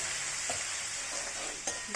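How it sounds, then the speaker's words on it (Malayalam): Chopped tomatoes sauté in a hot pan, a constant close sizzle broken by a few soft scrapes and knocks of a stirring spoon, with no talking. "ഈ തക്കാളി ഒന്ന് വഴറ്റി വന്നിട്ടുണ്ട്"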